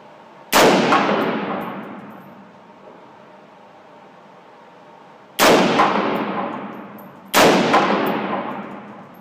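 Three rifle shots strike a steel target 100 yards away, each a loud sharp crack with a ringing metallic clang that decays slowly; the first lands alone, then two more come close together after a long pause.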